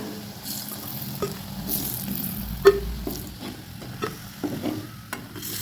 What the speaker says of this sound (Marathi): आता आपण एक साईडने पण तळून घेऊया